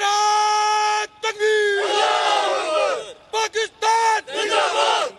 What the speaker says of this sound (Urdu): پاک فوج کے جوانوں نے اللہ اکبر کے نعرے بلند کیے۔